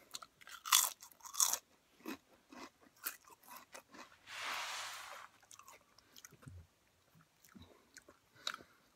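Crunchy Lay's Smokey Bacon potato chips being bitten and chewed up close, a series of sharp crisp crunches followed by quieter, irregular chewing with rustling between.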